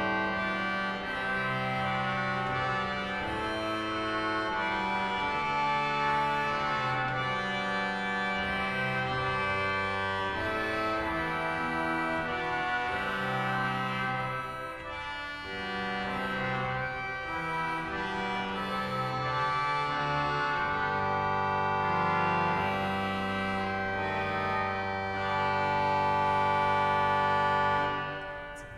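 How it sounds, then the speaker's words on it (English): Free reed Euphonia stop on the pipe organ of Onze-Lieve-Vrouw Bezoekingkerk in Hasselt, Belgium, playing a sustained chordal passage with a reedy, buzzing tone, steady and full throughout with no talking. "It's called Euphonia and is a free reed basically"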